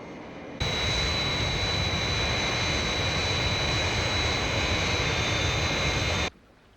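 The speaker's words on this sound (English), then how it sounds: "Scott has made a good takeoff, Father, in the Fireflash." The Fireflash jet airliner roars through its takeoff, a loud, steady jet-engine rush with a high whine that starts abruptly, holds constant for about six seconds and then cuts off sharply.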